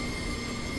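A BR Class 07 shunting locomotive in Train Simulator 2015 gives a steady, even rolling rumble with a thin metallic whine above it, brief and unbroken, with no speech.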